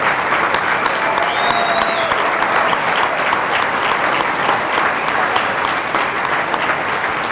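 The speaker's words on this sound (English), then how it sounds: "everybody give them a round of applause, please" An audience claps at a chamber of commerce annual meeting, a dense, sustained round of applause filling the room at steady loudness, without talk over it.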